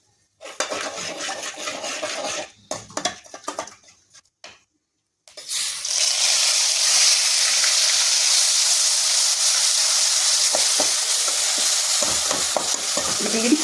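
A paste of ginger, garlic, onion and green chili hits a hot oiled pan and sizzles loudly and steadily, after a few quiet stirring clinks, with spoon scraping near the end.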